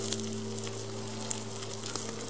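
Soy kebab sizzling while smoked on a fork over heat, a soft steady hiss with a few tiny pops over a constant low electrical hum, no speech.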